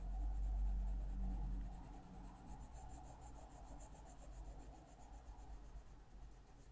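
White colored pencil burnishing on paper, a faint continuous scratchy rubbing of strokes going back and forth, very close and quiet with no talk.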